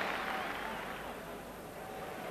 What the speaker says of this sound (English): But thoroughly deserved applause for the Rangers midfield player.